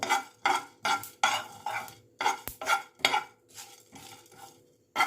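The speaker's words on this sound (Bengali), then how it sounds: "এবার এগুলোকে শুকনো ভেজে নেব।" Whole spices (coriander seed, a dried chilli, small cardamom, cinnamon and cloves) are dry-roasted in a pan, giving about a dozen rhythmic scraping and rattling strokes close by, with short pauses between them.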